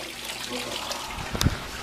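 Cold water runs from a tap in a steady low trickle, faint and close, with a brief louder splash near the end.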